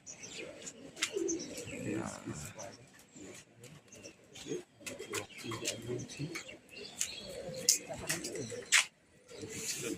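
A released flock of 23 racing pigeons in a Howrah competition, heard as scattered coos and chirps among sharp wingbeat-like clatters, with someone talking throughout and a dog barking faintly.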